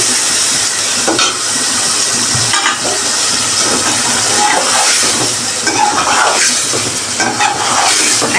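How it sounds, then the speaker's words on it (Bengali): Pre-fried eggs go into sizzling egg korma in a pan. Loud, continuous frying hiss and spitting fill the scene, broken by scraping and stirring bumps. "এখন ভেজে রাখা ডিমগুলা দিয়ে দিচ্ছি আমি"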